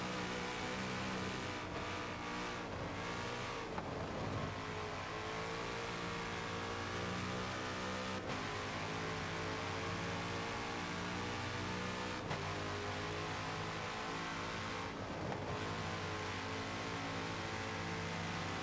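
Race cars in an ALMS sim race at Road America, Corvette and Ferrari among them, a steady loud engine drone with shifting revs and gear changes running continuously throughout.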